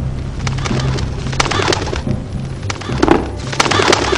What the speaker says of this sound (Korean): 까마귀 소리 나죠?